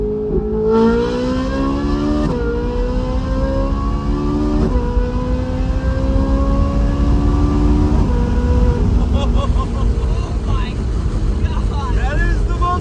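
A high-pitched engine revs and shifts through gears repeatedly, rising in pitch between shifts, loud and sustained like a race car, with people talking over it.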